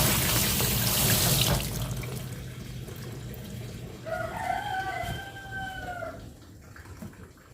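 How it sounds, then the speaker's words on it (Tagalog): Tomatoes washed under running tap water, a loud rushing splash at first that eases into a softer steady flow, with a rooster crowing clearly in the background partway through. "ugasan muna natin yung kamatis"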